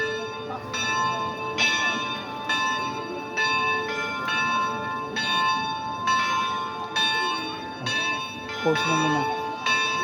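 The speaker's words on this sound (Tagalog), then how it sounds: "That is the church bell." A church bell rings repeatedly in steady, evenly spaced strikes at Kamay ni Hesus, loud and close with long ringing tones, while people talk briefly underneath.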